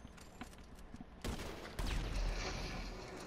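Gunfire in GTA during a deathrun match: a sharp, loud burst, then sustained heavy shooting with booming low rumble that continues to the end, without talk.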